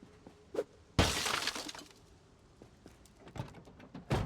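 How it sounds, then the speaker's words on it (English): Car window glass smashes in a parking lot in Project Zomboid, one sharp, loud shatter followed by scattered tinkling debris, with smaller knocks before it and another crack near the end. "I think we smashed a good number of windows here in this parking lot."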